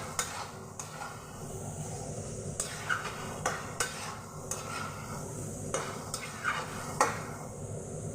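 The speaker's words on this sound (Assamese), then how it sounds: "জুইটো বঢ়াই ভাজি আছোঁ" Chopped banana tree stem is stir-fried in a pan over a fire, a soft sizzle broken by repeated sharp clinks and scrapes of a metal spatula against the pan at an irregular rhythm.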